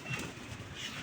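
A newly released pigeon cooing softly, faint and brief, with a low, rounded call and no speech.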